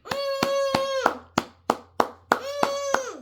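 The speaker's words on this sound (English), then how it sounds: "Clap it up for Rui Hachimura." Roughly ten sharp, loud hand claps, some evenly spaced and some isolated, cheering on basketball player Rui Hachimura over a steady ringing tonal note that cuts in and out.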